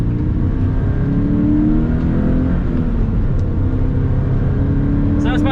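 Subaru BRZ heading out onto the Phillip Island race track, heard from inside as a steady, loud engine drone with a rising tone and air conditioning running.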